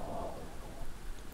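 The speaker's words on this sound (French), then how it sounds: "Vous entendez cette pluie?" Soft, steady rain falling, a faint diffuse patter with no distinct drops or thunder, quiet and even throughout the short stretch.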